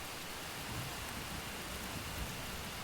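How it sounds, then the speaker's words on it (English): Heavy rain hisses steadily and densely in a video game, with a low rumbling undertone of thunder beneath the downpour, continuous and even throughout with no voices. "I don't remember the rain being this rainy before."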